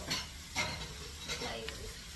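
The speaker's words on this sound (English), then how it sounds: "Stir it around so they mingle" Vegetables fry and sizzle in a pan while being stirred, the steady hiss broken by a few close scraping strokes of the utensil across the pan, with no talking.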